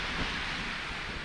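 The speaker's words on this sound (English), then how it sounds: "it's windy as hell" Strong wind on the rugged Scottish coast buffets the microphone in a steady, dense roar, loud and close, with no other sounds coming through.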